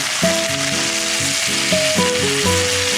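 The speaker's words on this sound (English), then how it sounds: "Now, you let it fry for another maybe 5 to 7 minutes to make sure it cooks through all the way" Fish sizzles and fries steadily in a hot pan, a loud, continuous crackling hiss heard up close, with sustained musical tones running underneath.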